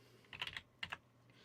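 Keystrokes on a computer keyboard in two quick bursts, a rapid cluster of clicks followed by a shorter pair, close and fairly quiet over a low background hum.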